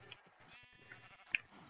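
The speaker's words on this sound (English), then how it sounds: "there's so much sheep over here" Minecraft sheep bleat faintly in a video game, a few soft wavering bleats spread over a quiet background.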